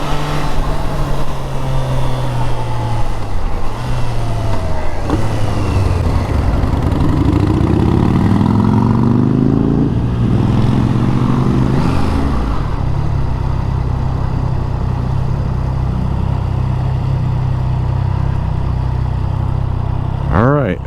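A Triumph Trident 660 motorcycle's engine and exhaust run nearby, a steady mid-pitched rumble with a rising and falling rev partway through, under a person speaking.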